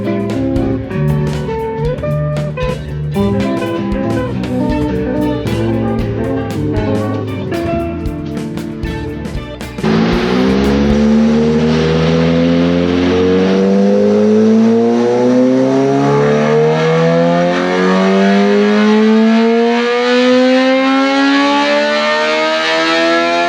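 A Kawasaki ZX-4RR motorcycle engine on a tuning run, first holding a loud buzzing high idle, then screaming up through a long, rising rev sweep that climbs steadily in pitch to a piercing wail.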